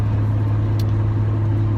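Nissan 350Z with a loud modified exhaust, its engine holding a steady, heavy idle rumble that runs continuously throughout.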